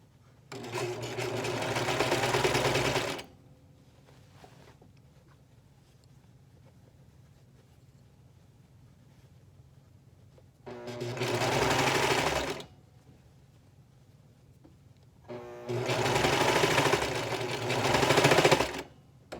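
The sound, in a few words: sewing machine sewing and serging ruffled fabric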